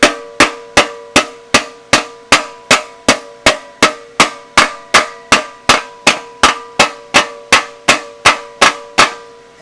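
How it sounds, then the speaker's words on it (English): Steady metallic hammer blows ring out up close, striking a wire edge on a garden pulling tractor fender, about two or three per second, each a sharp clanging strike with a short ringing decay, with no talking. "we can then take the hammer"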